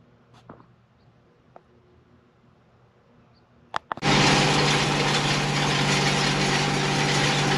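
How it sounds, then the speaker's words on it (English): Tractor engine hooked to a seed drill on a hay field, starting after a few faint clanks and then idling loudly and steadily with a constant close-up rumble. "I'm going to go ahead and go get the tractor and hook the drill back up"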